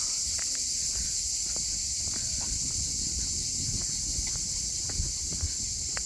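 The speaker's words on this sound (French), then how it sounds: "Vous entendez les cigales. Ça y va fort." Cicadas sing loudly and continuously in a hot southern French setting, a dense high buzzing wall of sound, with scattered footsteps and rustling underneath.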